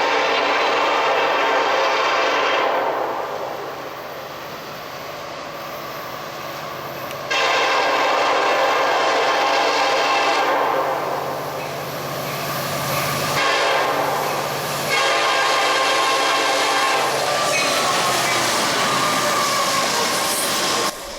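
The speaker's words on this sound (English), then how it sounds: "the next train that comes is yet another high headlight SD70 ACE" A long freight train led by an SD70ACE locomotive rolls past with a loud continuous roar and rhythmic wheel noise, swelling and easing as cars pass, with intermittent squeal.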